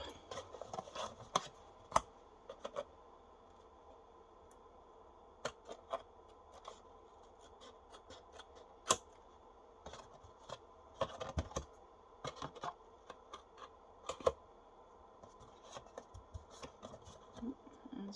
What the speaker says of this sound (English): we'll just trim that off with a pair of scissors